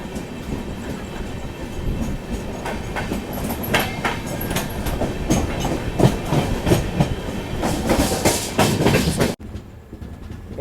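The Netravati Express from Thiruvananthapuram to Mumbai LTT rumbles along at speed, loud and close, with steady clickety-clack of wheels over rail joints and a rushing roar that drops away abruptly near the end.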